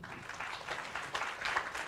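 Audience applause at a press conference, a brief patter of clapping that stays moderately loud and rises a little toward the end.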